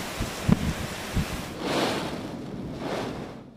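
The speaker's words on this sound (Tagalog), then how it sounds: "Mabangis at tila umaalulong ang hangin sa Santa Ana, Cagayan kagabi." Gusts of Super Typhoon Nando's 205 km/h wind roaring through Santa Ana, Cagayan at night, a broad rushing howl swelling and easing in waves, with a few low thumps near the start.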